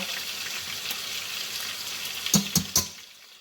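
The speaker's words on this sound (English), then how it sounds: "I'm just rinsing it in the hot grease" Chicken fries in hot grease with a steady, close sizzle, followed near the end by three quick clanking knocks of a utensil.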